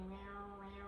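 A human voice briefly mimics a cat's meow, a short sustained tone with steady harmonics, quiet and close.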